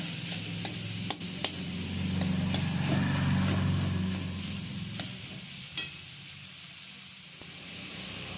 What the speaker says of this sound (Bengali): এবার নেড়ে নিচ্ছি